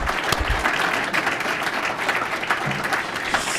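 Audience applause for a retiring colleague, a steady wash of many hands clapping at even loudness throughout, fairly close and sustained with no talk over it.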